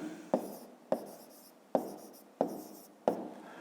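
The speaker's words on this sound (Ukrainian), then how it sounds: "Я запишу 9." A single digit, a nine, written by hand during a fifth-grade maths exercise, heard as a run of five sharp, close scratchy strokes spaced irregularly, each tailing off into a soft rasp, with no voices.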